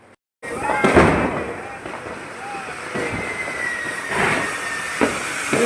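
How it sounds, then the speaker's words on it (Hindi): Firecrackers and sparklers set off nearby at a night festival: after a brief silence, a sudden burst of sharp crackling and hissing continues with occasional louder pops, fairly close, while voices talk faintly in the background. "दीक्षित लोग वहाँ पटाखे फुलझड़ियाँ खूब जला रहे हैं।"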